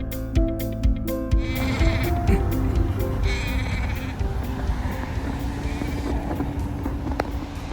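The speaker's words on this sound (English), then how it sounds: "There's sheep on the hill." Sheep bleat on a hillside in Iceland, several loud, wavering calls close by, with a rushing wind or distant engine rumble beneath and no speech.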